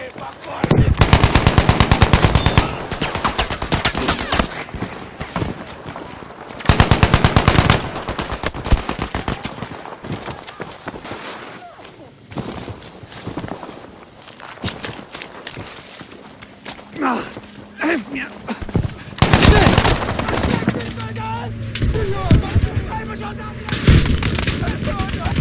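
Battlefield V on PlayStation 5 fills the scene with rapid machine-gun bursts, single gunshots and distant artillery booms, coming in loud clustered volleys with quieter gaps in between.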